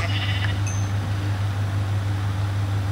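Minecraft sheep bleating in a video game, a short bleat standing out near the start over a steady low hum and noisy background, with no talking.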